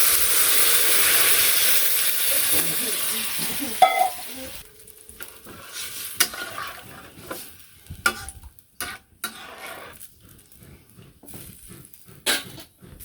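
Fried vegetables in a village kitchen pan burst into a loud hissing sizzle as water is poured in, then the sound drops to quieter bubbling with scattered clinks and taps.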